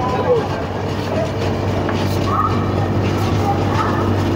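An express train at a station produces a loud, continuous low rumble and rolling hum, with faint clatter on top.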